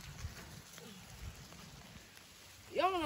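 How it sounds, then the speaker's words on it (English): Soft, steady rain patter with scattered drops over low background rumble in Wausaukee, Wisconsin, ending in a brief burst of louder, warbling noise. "Literally raining."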